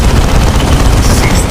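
Dense, loud gunfire fills an animated Warhammer 40k battle, a continuous roar of overlapping shots and blasts without any break.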